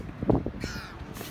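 Crows cawing at a beach in New Brighton, a few harsh caws rising over light background noise, fairly close and clear.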